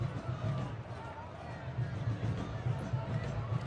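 Stadium crowd at a USL Championship soccer match between Tampa Bay Rowdies and Louisville City FC as fans file in, a continuous murmur of babble and footsteps at moderate level.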